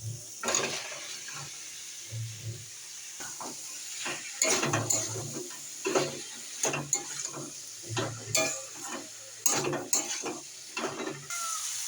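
Green jackfruit pieces go into a spice paste frying in a pan for a Bengali jackfruit and prawn curry, bringing repeated scraping, stirring bursts over a steady sizzle, fairly close and with no talk.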